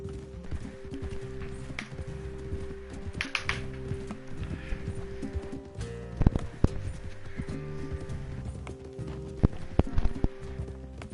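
Horse hooves clip-clop in a steady running rhythm in the video game Red Dead Redemption 2, close and clear over a droning music bed.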